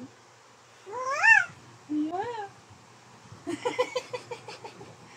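A cat meows in a home setting, two drawn-out rising-falling meows close to the mic, followed by a run of short rapid chirping calls, with quiet background between them.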